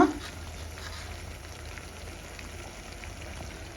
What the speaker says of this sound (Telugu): సో ఉల్లికారాన్ని నీళ్ళన్నీ మిరపే వరకు వేయించుకోవాలా